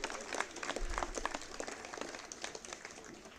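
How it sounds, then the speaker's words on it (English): Spectators applaud at the Jeev Milkha Singh Invitational 2021 golf tournament in Chandigarh, a steady patter of many hands clapping throughout, moderately loud and continuous with a faint low rumble beneath. "So a round of applause to all of you."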